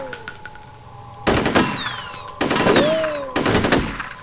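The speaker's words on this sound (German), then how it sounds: "Ich will mal ganz kurz gucken, was passiert, wenn ich da drauf schieße." Gunfire from the video game F.E.A.R.: a few sharp, loud bursts of rapid automatic shots with ringing tails, separated by short gaps, up close.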